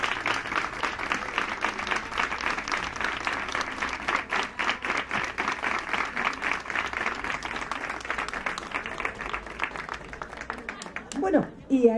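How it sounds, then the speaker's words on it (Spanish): Loud, sustained applause from a community gathering honouring the girls of a crochet workshop at a Nerva cultural centre event, steady clapping for about eleven seconds before fading into a few scattered claps and voices. "un fuerte aplauso para mis niñas del taller"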